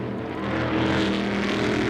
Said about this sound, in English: Now under brakes, peeling off left onto the causeway where Devine's charger has already been removed